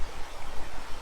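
Water from a small creek or spring runs steadily behind a campground, a soft broadband rush with no clear splashes, close and even throughout.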